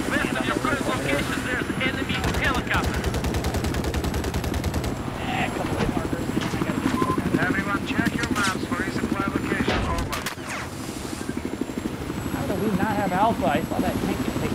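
Rotor thrum of enemy helicopters in Battlefield 4 on the Zavod map, sustained and loud under continuous bursts of machine-gun and rifle fire, with voices talking over the battle.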